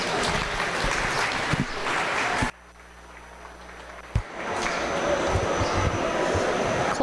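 Crowd applauding the exhibitors at a 2025 meat goat show, a broad, steady clatter of clapping. It drops out abruptly for a moment partway through, then resumes just as full.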